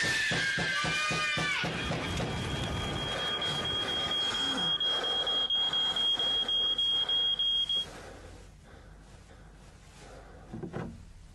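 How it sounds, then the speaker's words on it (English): A smoke alarm in a 1996 fire safety public service announcement sounds a sharp, piercing high tone that holds steady for several seconds amid dramatic background noise, then cuts off, leaving a quieter rumble. "When your smoke alarm goes off, make sure you know what to do."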